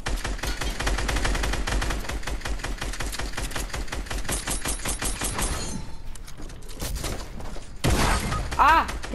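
Dense automatic SCAR assault rifle fire rattles through a Fortnite match on PlayStation 4, long rapid bursts with shattering impacts, a brief lull, then more shots and effects near the end, with a player talking over it.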